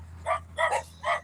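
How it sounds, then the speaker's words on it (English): Little puppies near a roadside bark in three quick, high-pitched yips, close by over a steady low background hum. "Look at them pretty little puppies. There's that little bitty pups."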